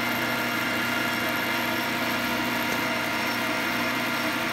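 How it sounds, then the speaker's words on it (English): A lathe runs at about 600 RPM cutting a micrometer thimble for a Quorn tool grinder project, giving a steady continuous machine hum and whir at even loudness with no voices. "So here's the lathe on."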